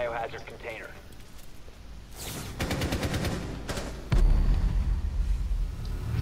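Rapid gunfire bursts from a Rainbow Six Siege match, a string of sharp repeated shots midway followed by a heavier blast, with players talking over the game sounds.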